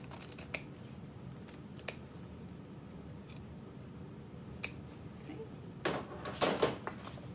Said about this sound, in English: when we get to about 1/2 inch from the ends, we cut out at like a Y shape